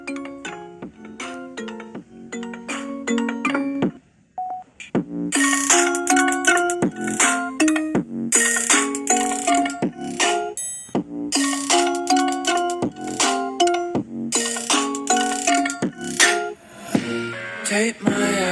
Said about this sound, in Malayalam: ഇനി നമുക്ക് ഇതിനകത്തൊന്ന് മ്യൂസിക് ഒന്ന് പ്ലേ ചെയ്ത് നോക്കാം.